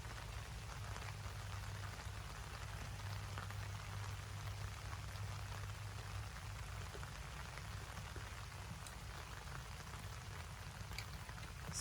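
Rain falls on a vegetable garden with raised beds, a soft, steady patter of drops that continues evenly and quietly throughout, with no talk.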